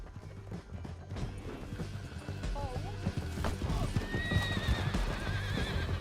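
Horses gallop with rapid clip-clopping hooves and let out several whinnies in the video game Red Dead Redemption 2, the hoofbeats loud and close, with a faint voice in the background.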